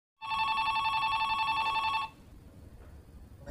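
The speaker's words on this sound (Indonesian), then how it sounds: "Sepulangnya makan siang Mary tiba-tiba mendapat telepon dari seorang wanita." Telephone bell ringing loudly and steadily in a film, a continuous electric ring for about two seconds before cutting off, leaving a faint room hush.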